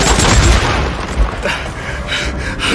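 Sniper gunfire in the Days Gone video game, heavy booming shots and rumbling blasts rolling through a continuous loud battle din over about three seconds, with no clear speech on top.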